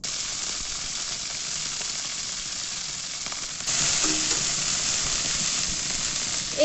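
Malabar spinach stems going into hot mustard oil with cumin seeds, a steady broadband sizzle that rises suddenly partway through as the stems hit the pan, close and continuous with no talking.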